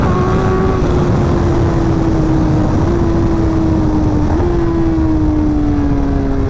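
A 2024 BMW M1000XR motorcycle, a 210 hp machine, sings a loud, sustained engine drone with a steady pitch that shifts slightly as it rides, alone with no voices.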